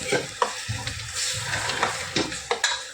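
Katra chutney being stirred and fried in oil in a pan, with a steady sizzle and repeated scraping stirs of a spoon against the pan, close and fairly loud, no talking.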